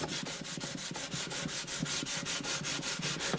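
Steady back-and-forth rasping of 800-grit sandpaper rubbing on the wooden bridge of an Alvarez AD65 acoustic guitar, quick regular strokes, close up and fairly quiet, with no talking.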